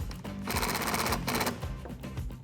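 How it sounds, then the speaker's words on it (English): An impact gun rattles in rapid bursts while tightening hose clamps with an 8mm socket on a cold air intake for a 2011-2019 Dodge Challenger 3.6L; close, loud buzzing hammer with short pauses, no talk. "you can grab an impact gun or a ratchet and an 8mm socket and just tighten these clamps up"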